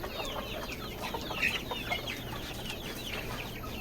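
Several native village chickens and a rooster cluck and chatter nearby in a continuous, busy flock sound, with occasional sharper calls rising above the murmur.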